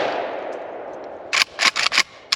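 An SGL Saiga 12 semi-automatic shotgun loaded with Winchester shells from a Lynx magazine fires five loud, close blasts in quick succession after a fading ring, with a final shot following a brief pause.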